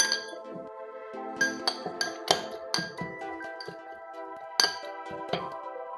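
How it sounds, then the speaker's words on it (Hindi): A muddler clinks and knocks against a glass while crushing pomegranate mojito ingredients with black salt, a series of irregular sharp taps, close and fairly quiet. "अब इन सब चीज़ों को एक मडलर की हेल्प से मडल करेंगे"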